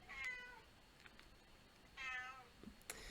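A house cat meows twice, a short call near the start and another about two seconds later, fairly close and clear over a quiet room with no talking.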